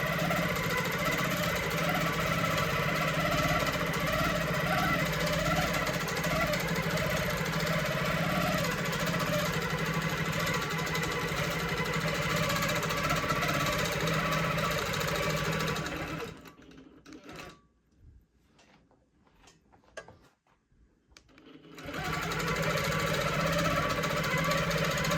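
Longarm quilting sewing machine in stitch-regulated mode stitching a meander pattern at 12 stitches per inch, a loud steady mechanical hum and rapid needle clatter for about sixteen seconds, then stopping into near silence before running again.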